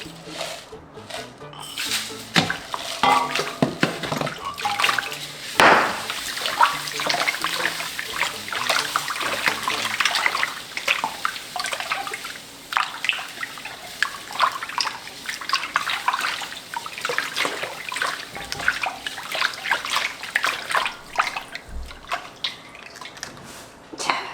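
Tap water runs steadily into a sink while cabbage is rinsed for cabbage water kimchi, a continuous trickling and splashing with scattered clatter, fairly close throughout.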